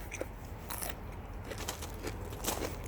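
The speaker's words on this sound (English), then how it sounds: "I'm going to eat it right now and you can listen" Several crisp bites and crunchy chewing, up close, with sharp broadband snaps around the middle and near the end.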